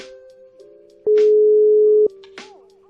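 A phone call being placed on an Indonesian talk show: steady tones give way to a loud, continuous one-second busy or ringback tone, with brief clicks and faint noises around it.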